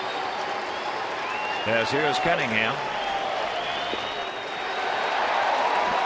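Lively crowd of about 21,000 at a baseball stadium, a steady roar of applause and cheering that swells slightly near the end, with a commentator talking over it.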